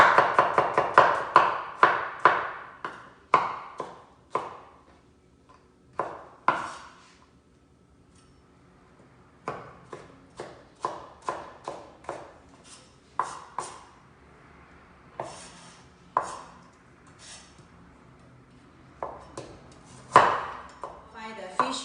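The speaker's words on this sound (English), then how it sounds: "then cut the slice into two, and then have 3 small cuts" A knife chopping slices into small fingernail-sized pieces on a cutting board, a string of crisp, close taps in uneven bursts with short pauses, while someone talks throughout.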